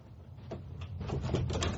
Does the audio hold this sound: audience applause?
no